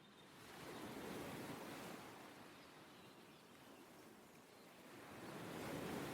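Surf rolls onto a secluded volcanic stone beach of dark black rocks in New Zealand wilderness, a soft continuous wash that swells, eases, then builds again, faint and steady with a breath of wind.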